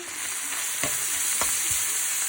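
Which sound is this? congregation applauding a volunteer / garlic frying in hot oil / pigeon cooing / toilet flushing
garlic frying in hot oil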